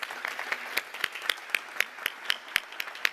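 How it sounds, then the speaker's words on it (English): Scattered claps from a small audience, with sharp individual hand claps standing out in an uneven, moderately quiet round of applause. "Please give them a huge round of applause."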